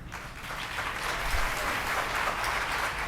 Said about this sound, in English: Can I ask you to hold your applause?